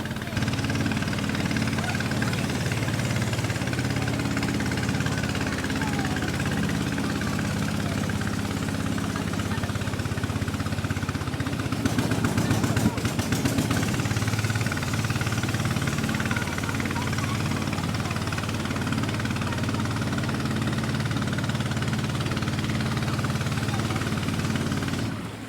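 A boat motor drones steadily on the Amazon River in flood season, a loud, continuous engine hum with a low rumble that holds for the whole stretch, with a brief rougher patch midway and no voices.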